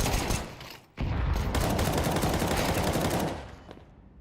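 Dense, loud automatic gunfire crackles in a tactical shooter game round, a nearly unbroken burst with a brief gap near the start, then tailing off, with no talking.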